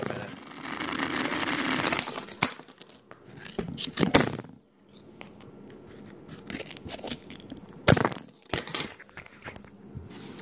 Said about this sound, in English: let's just start stabbing the shit out of this card here, and then maybe see if I can cut it here.